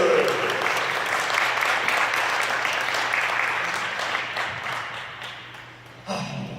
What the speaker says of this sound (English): So let's give a big round of applause to Walter Thomas III.